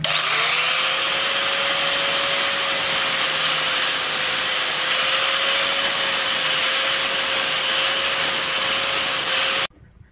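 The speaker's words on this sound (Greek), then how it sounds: "Με ένα τροχό, με πάνω ένα γυαλόχαρτο λίανσης, θα φάμε τη ελαβή." A rotary grinder fitted with sandpaper grinds the plastic handle of a Cressi Comanche speargun. A loud, steady high-pitched whine runs unbroken for about nine seconds, then stops abruptly.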